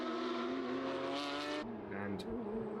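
Porsche race cars on the Navarra circuit howl past at close range, engines revving high and then dropping away as the field moves through. A commentator talks over the engine noise.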